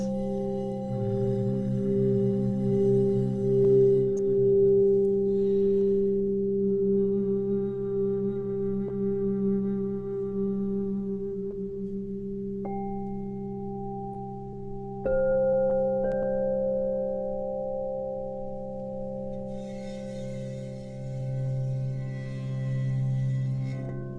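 Crystal singing bowls ring in a sound bath, long sustained pure tones layering and overlapping, with new bowls joining at higher pitches partway through and a soft shimmering wash near the end.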